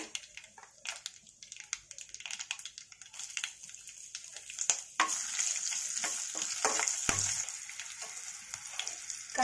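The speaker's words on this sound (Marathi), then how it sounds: "कांदा घालून परतून घेऊया." Chopped onion sautéing in a pan of hot oil with mustard seeds, cumin, turmeric and asafoetida for masale bhaat, a soft crackling sizzle with scattered pops and stirring scrapes, growing louder midway, with no talk.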